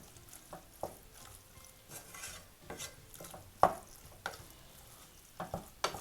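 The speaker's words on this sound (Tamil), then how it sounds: "இப்போ இதை நல்லா மிக்ஸ் பண்ணி விட்டுக்கலாம்." A spoon stirs cabbage dal curry in a pot, with soft scraping swirls and a few sharp metallic clinks against the rim over a faint simmer, close by and without speech.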